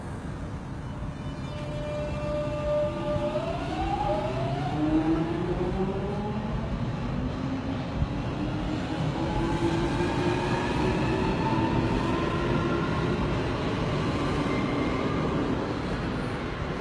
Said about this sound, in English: and the train's about to pull off over there